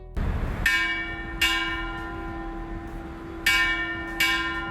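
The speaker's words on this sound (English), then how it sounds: "The guard rings a bell to signal the end of the forenoon watch" A uniformed guard rings a bell at Jardine's Noonday Gun during the daily firing ceremony. Four clear, ringing strikes fall in two pairs, each tone lingering and fading before the next, with no other sound around them.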